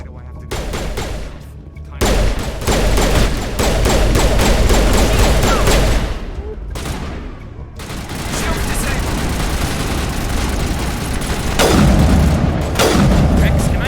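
Sustained, loud gunfire and booming weapon blasts in the Mass Effect video game, rapid bursts near and continuous with short pauses, with a voice speaking over the battle.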